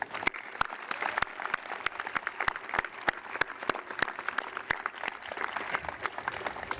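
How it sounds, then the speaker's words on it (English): Scattered applause at a high school graduation ceremony, with sharp individual claps of varied loudness from a crowd in a large space, continuous for the whole stretch. "Please join me in a round of our applause for our remarkable families."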